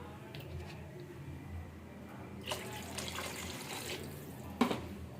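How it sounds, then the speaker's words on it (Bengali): Water poured into a simmering vegetable curry in a pot, a faint liquid splash and trickle rising briefly over low kitchen background noise, with a slightly louder pour near the end. "একটু সবজি করতে সময় লাগবে আর একটু জল অ্যাড করে দেব"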